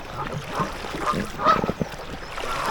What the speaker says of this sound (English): I'm going to upset the geese